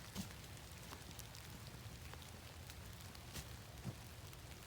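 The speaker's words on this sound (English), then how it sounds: "it's a beautiful day, even with a little spring rain" Quiet spring rain patters on surfaces in wetlands, a faint steady hiss with individual drops tapping now and then and a few slightly louder knocks.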